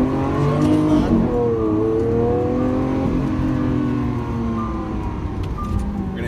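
Lamborghini Aventador SV sports car engine roaring loud and close from inside on a test drive, rising and falling through revs and gear shifts in a steady, continuous drone.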